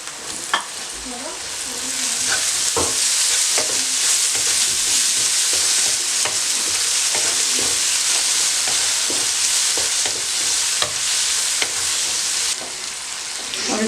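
Tomatoes cook in a hot pan for vegetable macaroni rice, a steady, loud sizzle with scattered scraping and tapping as they are stirred, and no voices.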